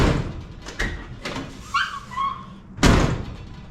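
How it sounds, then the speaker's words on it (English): Door of a 1957 Chevy being worked on after rust repair: a creak and scrape of the hinge as it swings, then a solid slam at the end, close and loud. "And now the door opens just fine."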